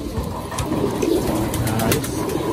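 Racing pigeons coo softly and steadily nearby, several birds overlapping, with faint background noise and no clear speech.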